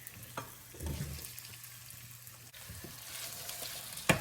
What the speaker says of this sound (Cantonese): 依家嚟煎薯仔，個鑊熱咗嘅話就放啲油。